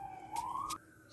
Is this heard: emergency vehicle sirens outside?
yes